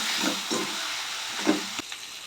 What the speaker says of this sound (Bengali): কাঁচকলা আলুর সঙ্গে ভাজা করতে থাকবো।